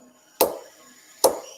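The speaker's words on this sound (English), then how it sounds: "The hammer is crucial to aligning the blades correctly." A hammer strikes scissor blades twice to align them, each a crisp metallic tap with a short ring, spaced under a second apart in a quiet room.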